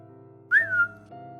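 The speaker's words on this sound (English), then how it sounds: "I heard a short whistle sound." A single short whistle, sliding slightly downward, sounds over a quiet steady hum, then fades back into the background.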